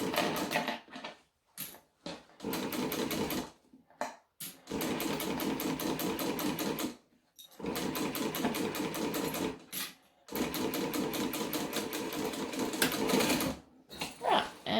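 Sewing machine stitching a seam and back-stitching, running in several long bursts separated by short pauses, close and steady with a dense mechanical whirr.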